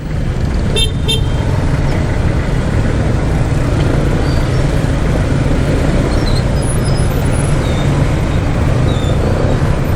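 Dense road traffic crawls across the Abacam Bridge in Balibago, a steady loud rumble of engines close by, broken early by a short car horn toot.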